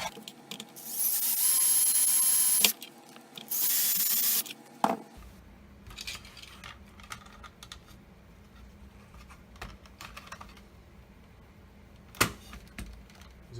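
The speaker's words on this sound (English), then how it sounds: "We'll go ahead and drill the hole out for the LED." A hole is drilled in a Nintendo NES console case for an LED below the power button, with two sustained high whining bursts of the drill followed by scraping, handling and a sharp click.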